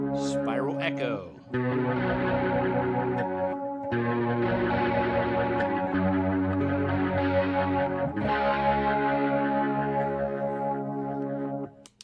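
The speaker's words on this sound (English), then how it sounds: "Spiral Echo." A distorted electric guitar runs through an app's Spiral Echo effect, with sustained, layered notes that repeat and smear into one another. The playing is loud and steady and trails off at the very end.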